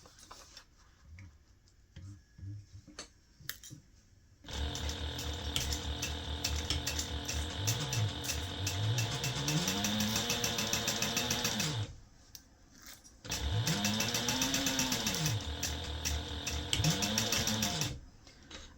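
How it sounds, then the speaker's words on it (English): A Juki DU1181N industrial sewing machine stitches a seam on a small gift bag, running in steady mechanical bursts with rapid needle ticking and motor whir, pausing between runs for backstitching. "My sewing machine that I'm using right now is a Juki"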